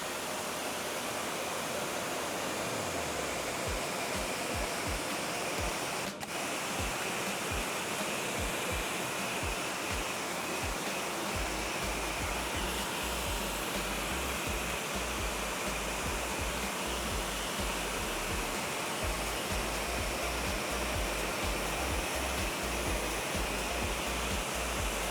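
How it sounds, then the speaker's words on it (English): A pressure washer rinses down the engine bay of a 20-year-old car from a few feet away, giving a loud, continuous broadband rush of spraying water with a steady low pump drone underneath throughout. "So now we're ready to rinse off. I have a pressure washer here."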